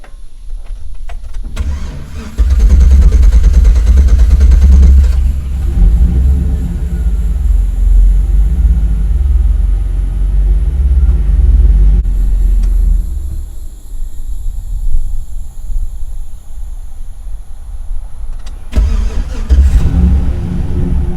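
A car with a long-standing hard-start problem, just fitted with a new gas cap, cranks briefly, catches, and settles into a loud, steady running drone close by.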